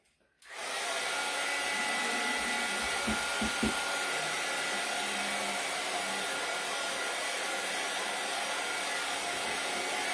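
A hair dryer switches on and blows a steady, loud whoosh over a wet craft board. The airflow runs on without a break at close range, with a few faint knocks at the start and no talking.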